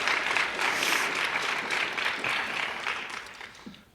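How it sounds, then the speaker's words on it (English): Audience applause at a school writing awards event, a steady burst of many hands clapping that slowly thins and fades toward the end. "we can still give Lazarus a round of applause"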